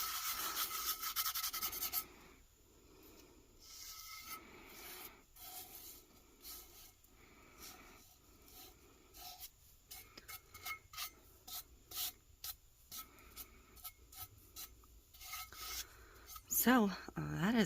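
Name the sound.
rubbing a glitter tumbler with gloved hands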